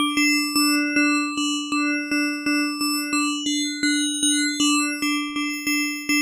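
A bright, bell-like wavetable synth tone from oscillator 2 of a HALion Sonic SE FLUX synth repeats in a steady, even pulse, each note striking sharply then fading slightly, with a sustained low drone underneath.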